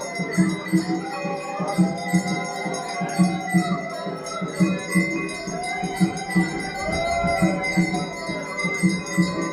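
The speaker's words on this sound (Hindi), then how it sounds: "घंटी बजती हुई लगातार" Temple bells ringing continuously amid a busy festival crowd in Vrindavan, rhythmic metallic clangs repeating over a dense background of voices, chanting and dhol drumming.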